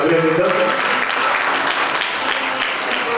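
A congregation claps during a special prayer service at a church in Nandipet. The dense, loud applause fills the whole stretch, with a voice audible at the start.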